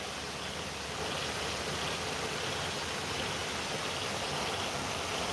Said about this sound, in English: today we're just going to have to enjoy the nice steady flow